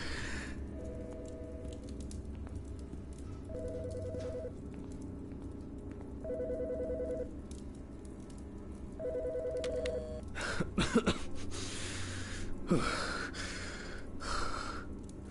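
A telephone ringing in a video game, four evenly spaced electronic ring bursts over quiet background, followed by breathing and rustling sounds.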